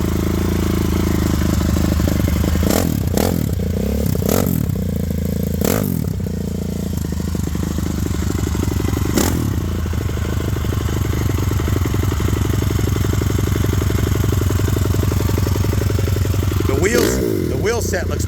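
A Cannondale X440 off-road motorcycle engine runs loudly and continuously up close, with a steady rough idle, a few sharp revs, and clattering mechanical noise, while someone talks over it.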